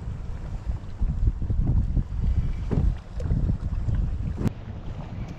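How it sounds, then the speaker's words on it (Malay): Strong wind buffets the microphone on a small boat during a river fishing trip in Kuala Kurau, Perak, a steady rumbling roar with gusting surges and occasional knocks, no talking. "Ish, kuat angin."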